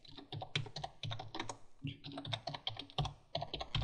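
Rapid typing on a computer keyboard with quick, uneven bursts of key clicks and short pauses, close and clear, with no talking over it.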